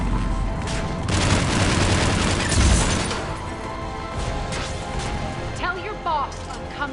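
Gunfire in the sci-fi shooter Mass Effect, a dense burst of shots and impacts in the first three seconds that then thins into a lower battle din, with a voice heard over it.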